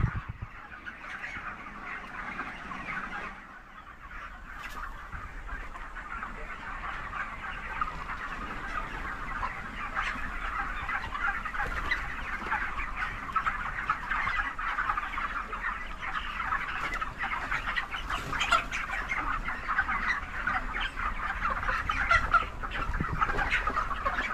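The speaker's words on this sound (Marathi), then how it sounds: "ह्या पोल्ट्रीमध्ये 5000 पक्षी बसतात" Chickens clucking throughout a large poultry shed holding 5000 birds, a dense continuous chorus of many overlapping clucks and calls, steady and fairly loud, with no talking.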